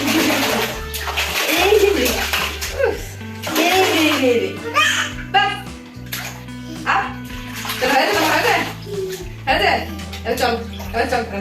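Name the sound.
water splashing while bathing a small child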